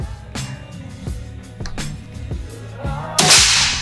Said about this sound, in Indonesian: Dan kita coba tembakan yang terakhir.